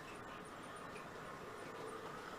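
Model train running around the track on a home model railroad layout, a steady continuous rumble and whir with no speech, holding an even level throughout.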